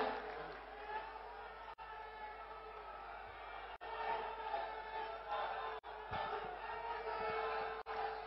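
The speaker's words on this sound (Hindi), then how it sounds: "दोनों हाथों से ऊपर करके तालियां बजाकर स्वागत करें" A large crowd at a farmers' rally in Jaipur, Rajasthan sustains a dense, roaring wall of applause and cheering, heard at a distance through a public address system with no pauses.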